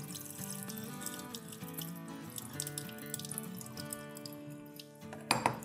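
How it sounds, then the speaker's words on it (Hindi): Minced meat being washed under running tap water through a strainer lined with muslin cloth, a steady splashing stream with dripping and light clattering, ending in a brief louder splash. "पहले हमने गहरे पानी में धो लिया और अब छन्नी के साथ धोएंगे ताकि पानी निकलता जाए"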